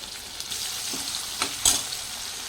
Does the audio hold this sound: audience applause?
no